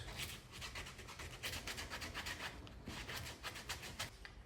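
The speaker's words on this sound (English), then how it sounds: "that's all just from sanding with the drywall sanding screen" A drywall sanding screen rubs back and forth over a dirty cork footbed, giving quiet, rhythmic rasping strokes in steady repeated passes, close and faint with nothing else heard.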